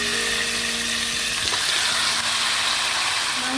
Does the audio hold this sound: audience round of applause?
no